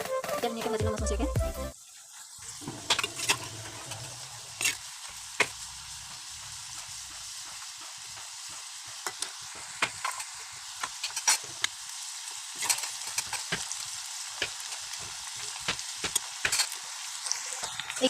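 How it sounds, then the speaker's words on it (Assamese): Pieces of khurma dough fry in hot oil in a kadai, a steady crackling sizzle with sharp pops scattered throughout, after a brief clatter at the start. "আৰু এইফালে কেৰাহীত তেল পাতি দিলোঁ মই ভাজিবলৈ"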